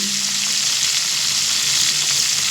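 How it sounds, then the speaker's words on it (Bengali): Tiger prawns frying lightly in hot oil, a loud, even, close-up sizzle that holds steady throughout with no voices. "দেখুন চিংড়ি মাছগুলো হালকা করে ভেজে নেব"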